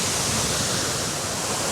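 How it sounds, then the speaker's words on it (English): Loud waterfall roaring nearby, a dense, steady rush of falling water that fills everything with an unbroken hiss and rumble, with no voices over it. "That waterfall's pretty loud."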